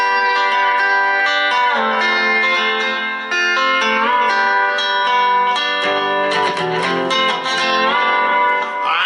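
An electric guitar plays sustained chords with slight distortion, moving from the 1 chord to the 7 chord and ringing out, with a brief pause in the middle.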